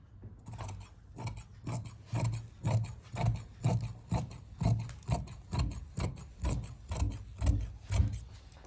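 Scissors cut salwar fabric in a steady rhythm of rasping snips, about a dozen evenly spaced strokes, close and moderately quiet with no talk.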